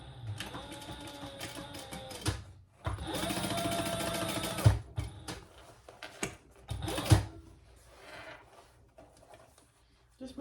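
Sewing machine stitching a bag seam an eighth of an inch from the edge, a steady burst of mechanical whirring running for about two seconds between short pauses and handling clatter, with a voice speaking nearby.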